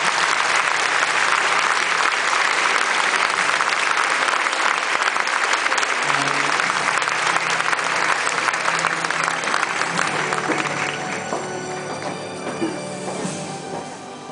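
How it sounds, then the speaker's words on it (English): A large crowd claps steadily at an Army graduation drill at Fort Benning, Georgia, honoring soldiers; the dense, sustained applause runs for about ten seconds before thinning and tapering away. "let's give these soldiers a round of applause for such a great job"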